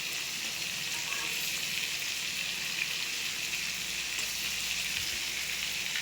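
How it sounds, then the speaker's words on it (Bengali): Shrimp frying in hot oil in a home kitchen give a continuous, close sizzle and crackle that holds evenly from start to finish, with no voices. "আর দেখো এখানে কিন্তু আমি চিংড়ি মাছটা ভাজা বসিয়ে দিয়েছি।"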